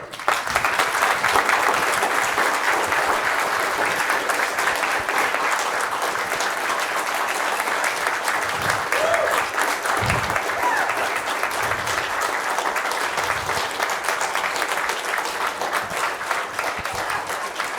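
An audience applauding after a talk on surviving and thriving in game development, steady dense clapping from a large crowd throughout the room, loud and sustained without pause.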